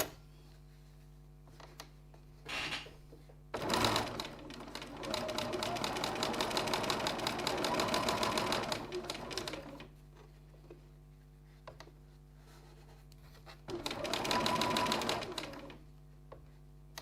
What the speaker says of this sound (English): going to go back to the sewing machine and top stitch those two edges together